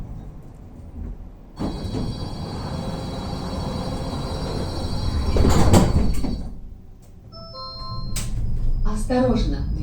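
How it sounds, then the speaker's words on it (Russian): Tram doors on an Ekaterinburg to Verkhnyaya Pyshma tram slide shut, a loud mechanical rumble and thud after a recorded announcement, followed by chime tones and further speech over the running tram. "Осторожно, двери закрываются."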